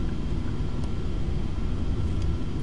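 A Flight Simulator X airliner climbs out of Leeds after takeoff, giving a steady, loud engine roar and broad rumble throughout with no pauses.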